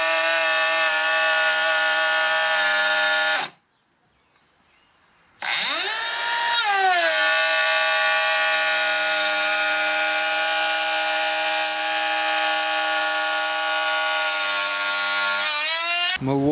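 Makita cordless router cutting wood, a high, steady motor whine that cuts out abruptly for about two seconds, then spins back up with a rising pitch and runs on until it winds down at the end.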